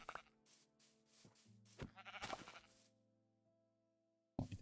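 Sheep in a village-building video game bleat several times in quick succession, close and clear, followed by a quiet pause and another short bleat at the end.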